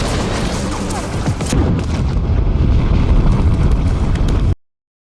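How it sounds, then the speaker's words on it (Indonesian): Several missiles hit and destroy a military base in a film scene, a loud sustained rumbling blast with crashing debris that cuts off abruptly into silence. "Beberapa rudal menghancurkan tempat itu"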